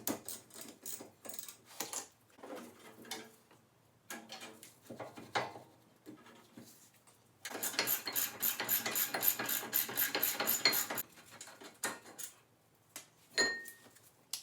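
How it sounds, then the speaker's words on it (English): Hand tools at work on a Mazda Miata during brake pad replacement: irregular metallic clicks and ratchet turns, with a longer dense burst of rapid ratcheting midway, close and fairly loud, with no talk. "I'm going to change some brake pads."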